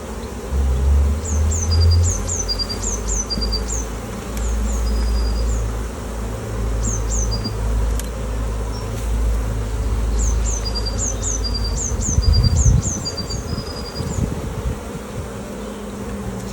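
Honey bees buzzing over beehive frames during a swarm check, a low steady hum throughout, with faint outdoor bird chirps in the background.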